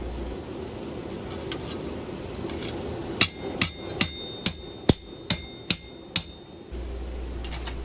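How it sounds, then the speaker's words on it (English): Metal hammer striking a piece over to shape a Russian rose, about eight sharp, evenly spaced taps in the middle of a quiet stretch, close and crisp. "Next I put the following piece in and just start hammering it over"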